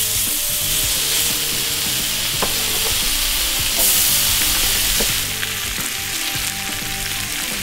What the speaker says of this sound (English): You can hear that sizzle already